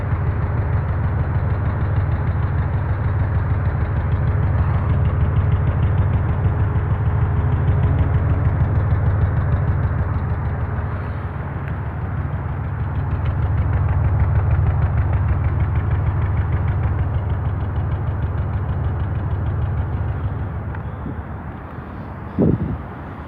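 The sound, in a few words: car engine idling with cylinder 4 misfire ticking at exhaust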